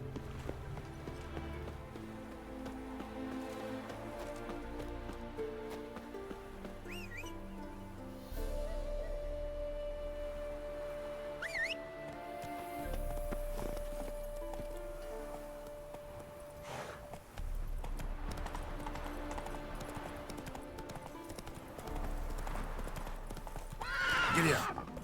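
Horse hooves clip-clop steadily in The Witcher 3 video game, with a neigh rising over the trotting and a voice speaking over the scene alongside background music.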